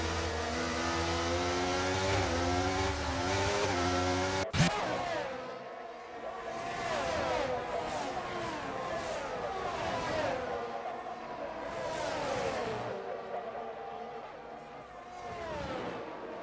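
F1 race cars at the British Grand Prix in a league game race, high-pitched engines whining and rising in pitch as they accelerate, a sharp shift around the fifth second, then several cars revving and pulling away under commentary.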